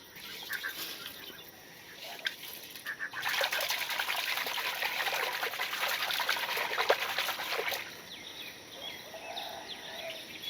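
Rice is squeezed and washed by hand in water, making close sloshing, swishing and trickling sounds that swell into a sustained stretch of churning water, then quieten again.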